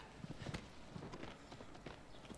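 A horse's hooves clip-clop faintly at a steady walking rhythm in Shadow of the Colossus, with soft repeated footfalls under a quiet ambient background.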